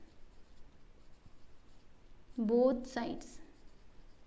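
A pen writes out a maths solution on paper, a faint scratchy texture of strokes, interrupted partway by a brief spoken word.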